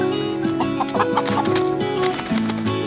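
Several roosters cluck close by in a layered, continuous chatter, with short throaty calls overlapping throughout.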